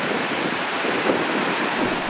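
Haifoss, a high waterfall in Iceland, gives a constant dense roar of falling water, with wind buffeting the microphone throughout.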